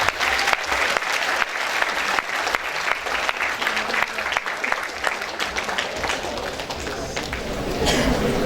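A webinar audience applauds a Nobel economics laureate, a dense, steady round of clapping that fills the whole stretch, loud and close, with a faint voice speaking underneath.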